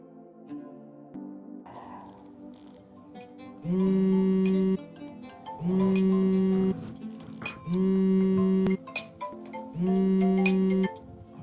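A mobile phone rings with an incoming call in a Swahili drama episode, its melodic ringtone looping in four loud, evenly spaced bursts over a quiet background.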